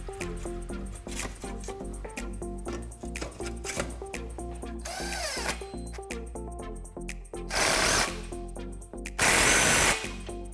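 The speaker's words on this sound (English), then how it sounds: "We're going to use a 3/8 wrench and a Phillips screwdriver to tighten these bolts down" Exhaust bolts on a 2016-2018 Focus RS aFe Takeda stainless cat-back system are tightened with a 3/8 wrench and a Phillips screwdriver: close repeated clicking and scraping, broken by a few louder bursts of noise.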